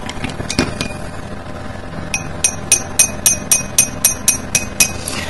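Copper sulfate and ascorbic acid are stirred in a glass vessel, making a bright, evenly spaced series of clinks from a utensil striking the sides. Quieter irregular taps come first, then the steady ringing rhythm, close and alone.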